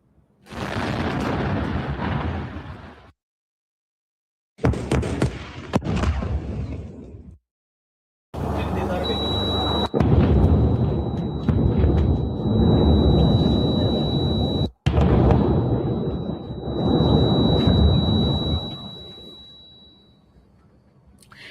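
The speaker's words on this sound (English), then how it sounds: "Footage shows a sustained bombing campaign on the Lebanese capital, Beirut." Heavy blasts from a sustained bombing campaign on Beirut, Lebanon, loud booming bursts with rumbling roar between them, broken by abrupt cuts to silence, plus a steady high whine through the middle stretch.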